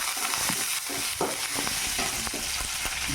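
Curry leaves and dried chillies sauté in hot oil for a bitter gourd fry, a lively sizzle punctuated by repeated scraping stirs of a spatula, close and steady with no voices.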